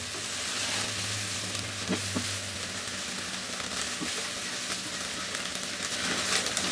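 Ginger garlic paste fries in hot oil while being stirred, a steady close hiss with occasional light scrapes and taps of the spoon against the pan.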